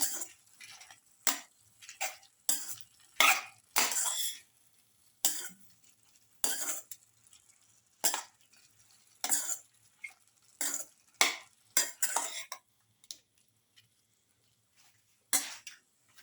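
Chicken with red chili pieces being stirred in a pan for a pepper lemon stir fry, heard as repeated scraping strokes and clinks in irregular bursts, close and fairly loud, with quiet pauses between them.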